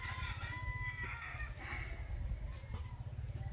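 A five-month-old Polish crested rooster crows at a poultry farm, the call faint and partly buried under a steady low rumble of background noise.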